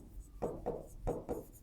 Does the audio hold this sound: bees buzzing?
no